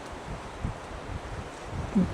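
Gusty wind buffets the microphone outdoors on Churchill Island, a steady low roar with soft rustling and a slightly stronger gust near the end.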